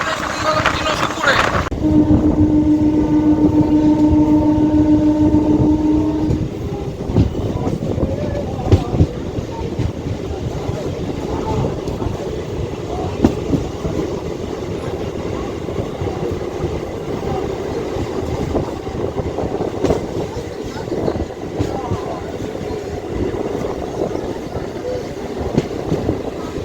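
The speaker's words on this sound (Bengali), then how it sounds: "বন্ধুরা ট্রেন এখন আমাদের চলে এসেছে নসিবপুরে" A Howrah–Tarakeswar local train running near Nasibpur in Hooghly district, a loud continuous rumble with rail clatter heard from on board, a steady tone fading early on, with someone talking over it.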